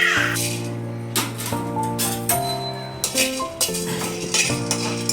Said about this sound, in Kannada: ಜೀರಿಗೆ ಹಾಕೋತಾ ಇದ್ದೀನಿ. ಈಗ ಸ್ವಲ್ಪ ಬೆಚ್ಚಗಾದ್ರೆ ಸಾಕು, ತೀರಾ ಫ್ರೈ ಮಾಡಬೇಡಿ.